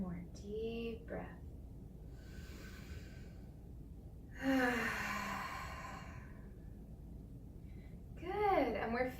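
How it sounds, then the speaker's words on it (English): A slow, deep exhaled breath during a relaxing yoga session, soft and close, with a calm voice giving instructions around it. "One more deep breath."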